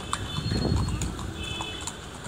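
Horse hooves clip-clop on the street as a cart is pulled through the old town of Marrakech, with faint, quick hoofbeats amid background city noise.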